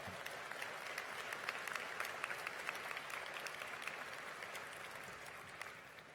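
Steady audience applause at a university encaenia graduation ceremony, a dense wash of many hands clapping at an even level for about six seconds without a break.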